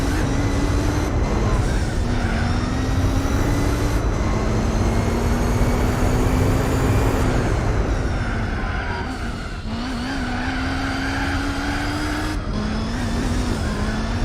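A Honda Fit racing in Gran Turismo 4, its engine droning loud and steady through repeated gear shifts, pitch climbing then dropping at each change, with brief tyre noise.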